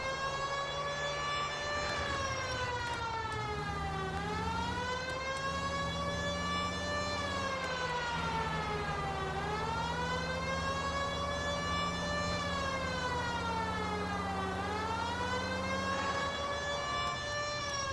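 Police siren in the LA Noire video game wails in long rising and falling sweeps, loud and continuous for the whole stretch over a low steady engine rumble, with no talking.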